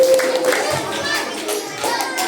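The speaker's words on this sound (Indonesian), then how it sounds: "Tepuk tangan." Children clap hands in a school setting after a quiz answer, a short scattered round of light claps mixed with soft voices and chatter nearby.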